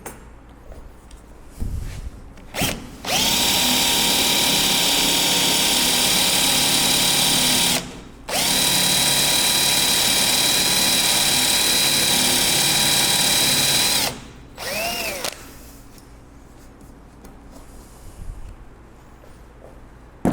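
A power drill boring with a bit runs loud and steady in two long bursts, split by a short pause, with quieter handling noise before and after.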